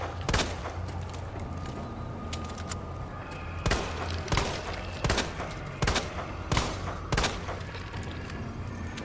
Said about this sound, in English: My bullet's not doing anything to it.